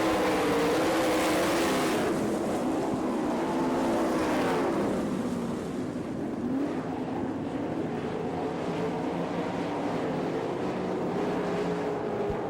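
Sprint cars in an All Star Circuit of Champions race at Florence, Kentucky, roar steadily down the back straightaway, a loud sustained engine drone with rising and falling pitch as the pack passes.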